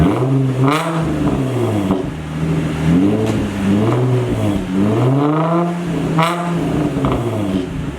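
Nissan 350Z VQ V6 fitted with a new Nismo exhaust, revving repeatedly in rising and falling sweeps, loud and close, with no talk over it.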